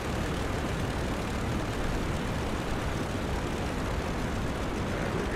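WWI fighter plane engine throttled down in the Rise of Flight game, a steady, dense propeller drone and wind rush holding at an even level throughout, no voices.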